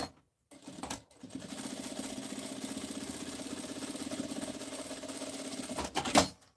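A sewing machine stitches a seam on a toiletry bag in a quick, rapid run, starting after two short bursts and stitching steadily for about five seconds before a brief clatter at the stop.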